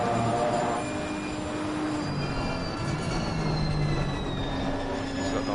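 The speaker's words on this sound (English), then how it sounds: "I love the gear change" Race car engine in Assetto Corsa Competizione, a steady loud drone running throughout with shifting pitch lines that suggest gear changes, with no talk over it.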